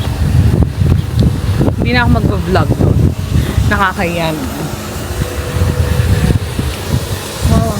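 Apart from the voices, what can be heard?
wind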